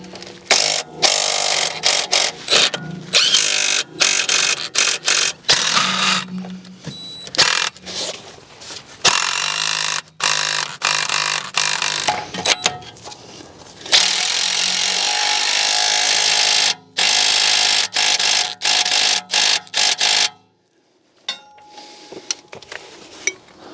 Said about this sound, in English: So now I'm just going to torque down all of the nuts and bolts